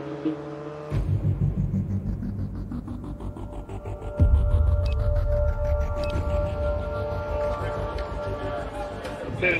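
A motorcycle pulls away from a roadside traffic stop, its engine rumbling steadily nearby, then swelling louder as it accelerates off, with the low drone continuing to the end.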